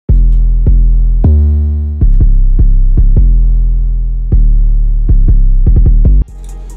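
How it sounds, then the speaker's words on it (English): Deep 808 bass drum hits in a hyperpop beat, with long sustained booming tails, playing a loose rhythmic pattern, loud and up front, with no other sounds. "Now to the drums, I got this 808"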